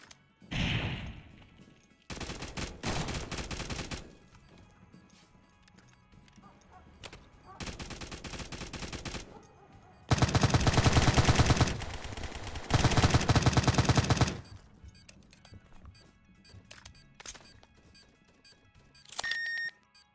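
Gunfire in the video game Zero Hour comes in several separate loud bursts of automatic fire, broken by quieter gaps with faint background game noise and a short electronic beep near the end.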